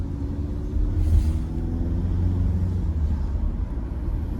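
A Volkswagen Golf VII Sportsvan 1.6 TDI diesel picks up speed on a straight road, its steady low engine rumble swelling slightly as it accelerates, heard from inside the cabin with no talking.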